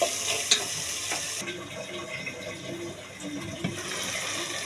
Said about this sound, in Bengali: তো এখন মশলাগুলোকে ভালোভাবে কষিয়ে নেব